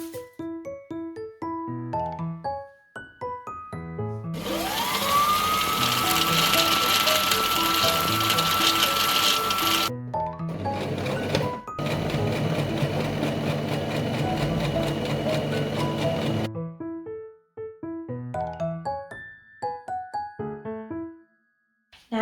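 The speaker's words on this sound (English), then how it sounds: "so I just did a zigzag stitch instead" A sewing machine runs zigzag stitching along the fabric edges of a peasant-style gown in two loud mechanical bursts of whirring and rattling. A musical passage plays before, between and after the bursts.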